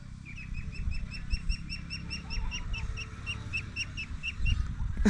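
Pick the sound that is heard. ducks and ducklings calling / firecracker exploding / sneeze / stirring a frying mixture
ducks and ducklings calling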